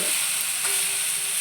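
Paneer cubes, cut from one kilo of milk, sizzle in a hot pan as a steady, close frying hiss with no talk over it.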